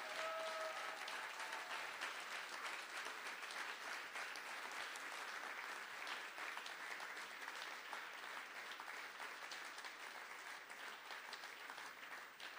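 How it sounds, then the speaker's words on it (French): Audience applause fills a cooperative's general assembly hall, a dense, steady clapping from a large crowd that carries on for about twelve seconds and eases slightly toward the end, with no talking over it. "je voudrais encore qu'on t'applaudisse une deuxième fois, Sophie."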